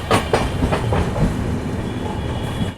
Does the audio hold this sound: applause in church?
no